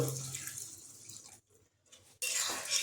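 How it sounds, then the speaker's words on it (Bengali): Water runs in a steady stream from a tap or jug into a pan of Assam-style katla kaliya curry, a broad splashy gush that pauses briefly for about a second before pouring again, close and fairly loud. "এবার এর সঙ্গে আমরা দেব জল"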